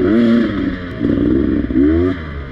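Beta 300 two-stroke dirt bike engine gurgling at a demo day, a burbling, uneven idle that swells in short throttle blips, close and fairly loud with no talk.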